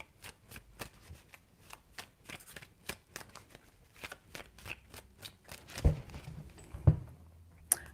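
A deck of tarot cards shuffled repeatedly up close, steady papery flicks and riffles ending in a couple of louder taps as the deck is squared, with no talking.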